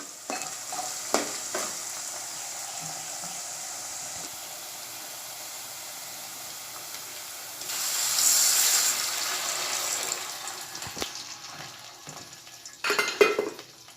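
Water poured into a pan of frying rawa upma with soaked moong dal, a loud sizzling burst followed by steady stirring and scraping of a utensil against the pot, with a few clinks near the end.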